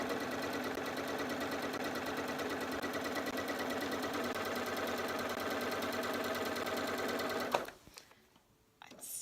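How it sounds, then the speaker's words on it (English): A sewing machine chain-pieces half square triangle blocks, its rapid, even mechanical chatter running steadily for several seconds before stopping and giving way to faint handling sounds. "I'm stitching down the second side of each of these half square triangle blocks"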